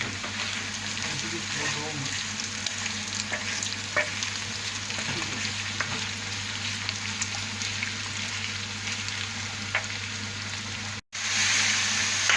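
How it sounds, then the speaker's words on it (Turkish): Tomatoes and green peppers fry in a little oil for homemade kokoreç, giving a steady, close, broadband sizzle that runs unbroken throughout, with a brief dropout near the end. "Kızartıp hafif yağda."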